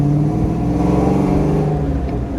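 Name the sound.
car engine with Flowmaster exhaust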